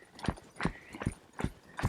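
A horse's hooves clip-clop over a pole on the ground in about five even, close, distinct steps with no talking.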